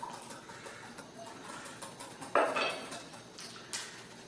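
Food being mixed in a bowl for a surf and turf cook on a Camp Chef Woodwind pellet grill, heard as scattered clinks and taps with one sharper scrape midway and a later knock, fairly quiet with no talking.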